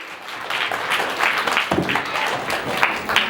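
Applause in a school classroom for a top student, a brief round of uneven clapping from a small group of children, close and moderately loud.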